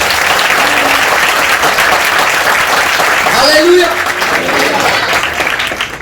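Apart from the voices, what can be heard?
congregation applauding in church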